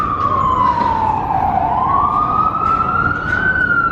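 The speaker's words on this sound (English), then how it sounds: "the lovely sounds of" An emergency vehicle siren wails close by in New York City along the High Line, its pitch sliding down and then climbing again in one long sweep over steady traffic rumble.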